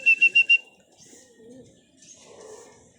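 Racing pigeons coming down at their home loft, with a quick burst of four loud, close chirps or wing claps followed by softer cooing and faint rustling.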